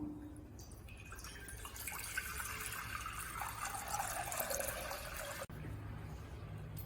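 Water pours steadily into a brass urli vessel. The close, continuous splash rises in pitch as the vessel fills, then stops abruptly, leaving a quiet room tone.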